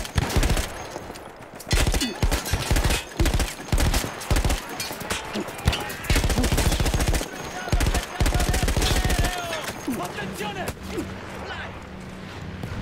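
A mounted machine gun in Battlefield 1 fires on an Italian front battlefield in rapid, loud bursts broken by short pauses, with other battle noise and a voice in the mix.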